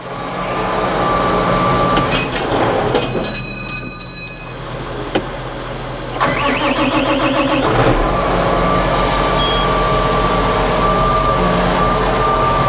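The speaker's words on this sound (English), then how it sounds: "Tractor fires right up." A John Deere 8245R tractor fires up after a starter replacement in a workshop, with a brief clattering crank followed by a loud, steady diesel drone close by, plus a few sharp knocks and no voices.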